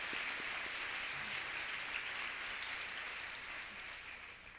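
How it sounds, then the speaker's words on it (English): Luncheon audience applauding together in a steady, dense round of clapping that holds through the whole stretch and tapers slightly toward the end, fairly distant and soft. "Let's give them another round of applause."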